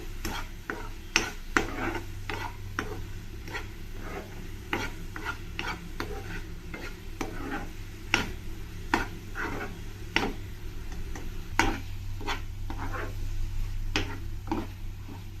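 Sugar and grated coconut melting together in a pan for coconut burfi, stirred continuously with a spoon: soft irregular scraping and tapping strokes over a faint low sizzle, fairly quiet and close.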